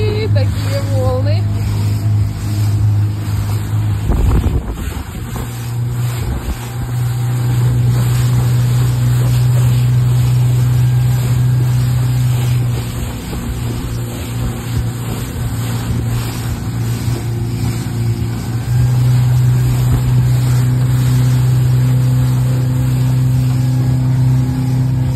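Boat motor on the Rybinsk Sea droning steadily near and loud as the hull runs over waves, with a low hum that dips briefly after a thump and then resumes, while voices talk over it.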